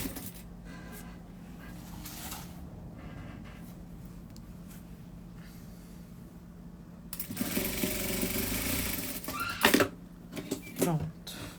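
Sewing machine stitching fabric sleeves for a Menino Coelho garment, a low motor hum under quiet room tone that jumps into a louder, steady whirring run midway, with a few short sharp clacks near the end.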